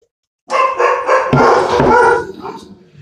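Several dogs bark and yip in a quick, overlapping burst, loud and close, trailing off into a whine.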